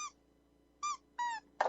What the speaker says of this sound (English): That's the dog with the squeak toy.